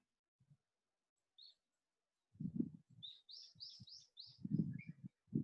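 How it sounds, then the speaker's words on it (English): Small birds chirp in a forest with a run of quick, high, close tweets, mixed with soft low thumps and rustles nearby. "Why birds are singing?"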